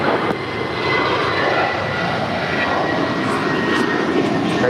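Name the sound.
airliner taking off from runway 25 right at LAX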